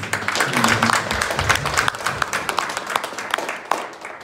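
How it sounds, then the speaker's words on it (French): Congregation at a Catholic Eucharistic celebration marking a fiftieth anniversary claps for a few seconds, a fairly steady patter of hands mixed with crowd murmur and a few voices. "Un applaudissement nourri"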